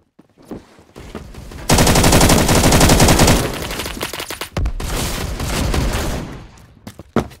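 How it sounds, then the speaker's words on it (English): A light machine gun fires in the Roblox shooter Phantom Forces: two long sustained automatic bursts, loud and close, after a few scattered single shots, with more isolated shots at the end. "the LMG is so good on this map"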